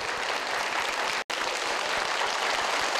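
Steady applause from a studio audience at a Vietnamese television game show, loud and continuous clapping from a crowd, with a brief cut partway through.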